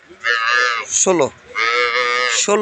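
A Holstein Friesian dairy cow moos loudly in two long, drawn-out calls with a shorter lower bellow between them, close by and with no talking, at a cattle market.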